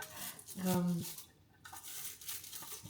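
Dishes being washed by hand after cooking a broccoli and leek soup, with a few clinks of pots and cutlery and sink clatter close by, mixed with some indistinct talking.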